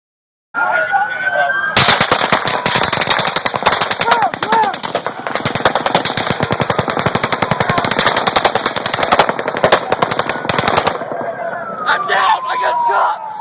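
Rapid automatic gunfire from the Las Vegas shooting rings out in long sustained bursts, loud and dense, with crowd noise and distant voices beneath and around it before and after the volleys.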